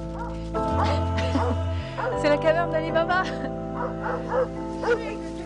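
Stray forest dogs bark and yelp in excited bursts as a food van arrives, several voices overlapping under a loud engine hum, while a person speaks over them.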